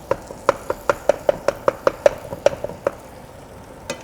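Chipotle peppers in adobo sauce being broken up in a pan with garlic, giving a steady run of about a dozen sharp taps and knocks of a utensil against the pan, one more knock after a pause, close and clear with no talk.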